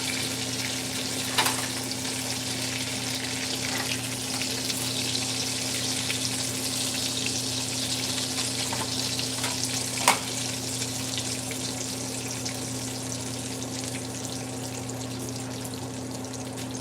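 Mushrooms fry in a pan with a steady, close crackling sizzle throughout, over a constant low electrical hum, with a couple of sharper pops.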